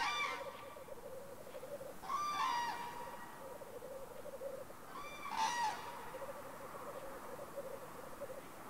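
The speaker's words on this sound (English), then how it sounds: "The hen signals she's ready to mate through cooing" A pair of cranes call during courtship on an open moor, giving a few short hooting, honking bursts spaced a few seconds apart, moderately distant over a soft steady background.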